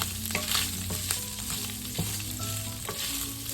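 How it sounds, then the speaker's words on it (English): Pork pieces sizzle and fry low and slow in a pan for dinuguan, a Filipino pork blood stew, with a steady crackle of rendering fat and occasional stirring clinks, close and continuous with no talk. "we're gonna brown the meat a bit until it gives out those oil or pork fat"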